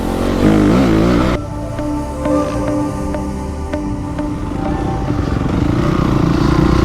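A dirt bike engine rumbles close by with a steady mechanical clatter, its pitch rising toward the end as it is revved, with no talking over it.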